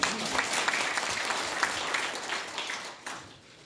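An audience applauds at a National Assembly forum on a special counsel probe, a dense wash of many hands clapping together, fairly distant in a large room, sustained then tapering off toward the end.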